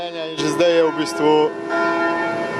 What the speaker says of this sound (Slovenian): Kako glasno je zvonjenje cerkvenih zvonov v Hrastju, kmalu ugotovimo tudi sami.